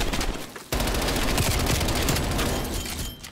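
An automatic gun in Call of Duty Black Ops Cold War, played in a Domination match, fires a sustained rapid burst, loud and close, with a brief pause near the start and nobody speaking.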